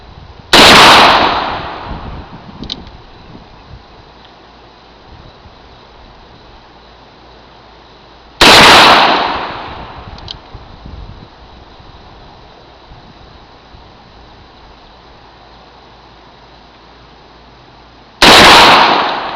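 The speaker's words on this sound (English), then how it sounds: "The Super Redhawk 44 Magnum." Three loud, close gunshots from a Ruger Super Redhawk .44 Magnum revolver fired at a range, spaced roughly eight to ten seconds apart, each a sharp blast with a short ringing tail, and quiet between shots.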